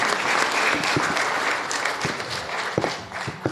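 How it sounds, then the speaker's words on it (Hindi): Dense, loud applause from a gathered crowd at a labor federation meeting, a continuous roar of clapping with a few sharper claps standing out near the end. "जोरदार तालियां"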